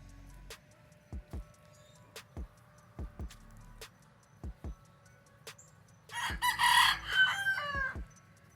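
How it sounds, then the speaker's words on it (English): Chickens outdoors: a rooster crows loudly for a couple of seconds after a series of sharp, evenly spaced knocks and soft clucks in a quiet setting. "There's a few of the chickens showing off for the camera."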